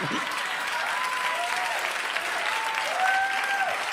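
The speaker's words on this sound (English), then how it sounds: "judging by your applause and your weird Arsenio Hall whoop that you just did" A comedy club audience applauds in a dense, steady wash throughout, with whoops and whistles rising above the clapping, loudest near the end.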